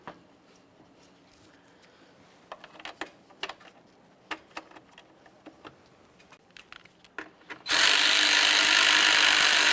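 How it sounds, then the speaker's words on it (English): A ratchet snugs the coolant reservoir mounting bolts on a 2015-2020 Ford F-150 3.5L V6. Short bursts of close, crisp clicking are followed by a sudden loud, steady rushing noise. "Start in each one of those mounting bolts and snug them up."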